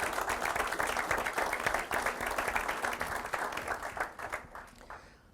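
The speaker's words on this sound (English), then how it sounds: "If everyone would just join me in giving them a little round of applause to thank them." An audience at a company's annual general meeting gives a round of applause, dense clapping that holds steady and then thins out and fades near the end.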